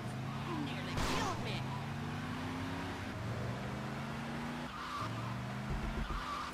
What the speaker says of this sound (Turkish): Sağ klikten el frenini çekiyormuş bu.